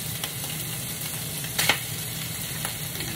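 Onions sizzling and frying in a pan for homemade pizza topping, a steady close sizzle with a few brief stirring scrapes and clicks, no talking.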